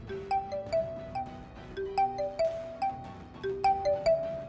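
A melodic phone ringtone plays a repeating chiming tune of bright notes, looping several times at moderate volume with no voices.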